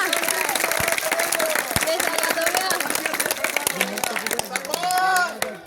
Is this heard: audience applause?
yes